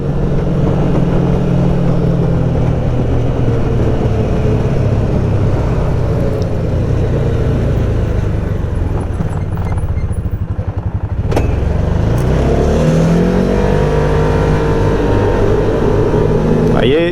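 A Can-Am Maverick Trail 700 side-by-side circles a roundabout with a loud, close, continuous engine drone that dips and then revs back up, and a voice talks over it at times.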